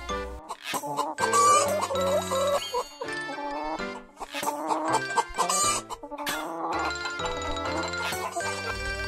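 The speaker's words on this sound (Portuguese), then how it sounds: "O galo tem um canto característico que é mais frequente ao amanhecer" A rooster crowing and hens clucking in a farmyard: loud, busy layered calls, with the crows rising over a dense, continuous clucking bed throughout.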